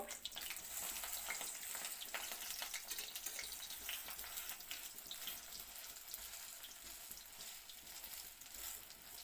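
Jute leaf fritters (bora) for a mustard jute leaf dish fry in a pan, a soft, steady hiss of oil that continues faintly and evenly without any talk.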